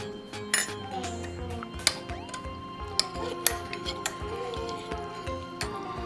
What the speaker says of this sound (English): Now we give it a good stir.